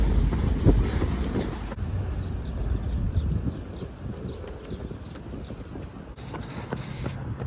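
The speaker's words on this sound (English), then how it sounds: "There's a train here." A train in Geneva rolls past along the lakeside, a near, rumbling clatter of wheels over rail joints in a rhythmic clickety-clack, heavy at first and then thinning to a lighter, steady rattle.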